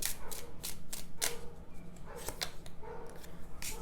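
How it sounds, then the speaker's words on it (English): Several dogs bark in a rapid, repeated series of sharp bursts, fairly close and loud over steady low background noise, with no voice over them. "my dogs are barking"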